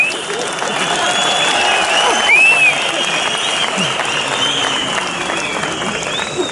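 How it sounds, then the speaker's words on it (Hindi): A crowd claps steadily as the Chief Minister takes the stage at the HRTC 50-year celebration, sustained applause with a couple of sharp whistles cutting through and a voice faintly under it. "मुख्यमंत्री जी मंच पे आ रहे हैं और तालियों सीटियों से इनका स्वागत करें"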